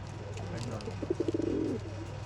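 Pigeons for sale in Bangalore give a soft, rolling coo of rapid pulsed notes, faint behind a steady low hum and background murmur.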